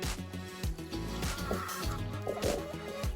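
Chickens cluck and squawk nearby as they are herded back into their pen in a backyard in New Zealand. A steady run of overlapping, throaty calls continues for a few seconds, with no talk.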